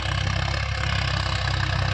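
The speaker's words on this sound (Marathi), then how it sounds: "भया ट्रॅक्टर आला" A tractor engine idling nearby on a farm, a steady low rumbling chug with even rhythmic pulses and a light clatter, no voices.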